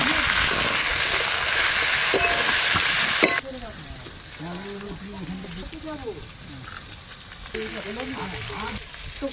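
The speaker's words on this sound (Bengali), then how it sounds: "ঝোলের জন্য আলু, পেঁপে আর কাঁচকলা হালকা করে ভেজে নেব।" Potato, papaya and green banana fry lightly in hot oil, a steady sizzle that is loud at first, drops abruptly, then rises again, with stirring and scraping sounds throughout.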